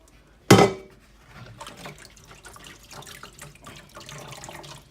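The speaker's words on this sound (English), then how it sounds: "just strain that into a strainer" Cooked bean liquid from refried beans pours into a strainer, starting with a loud splashing burst, then settling into a softer, steady trickle and drip.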